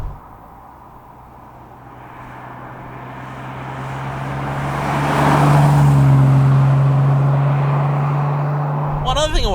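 Aston Martin DB6 classic car engine droning steadily from inside as it drives, rising in loudness as the car accelerates, with a strong low hum and a brief rattle near the end.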